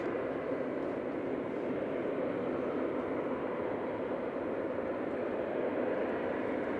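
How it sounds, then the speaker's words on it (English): Ryanair airliner departing Manchester Airport bound for Bergamo, its engines giving a steady, broad jet roar that holds level and unbroken throughout, with no voices over it. "So Ryanair going first. Heading up to Bergamo."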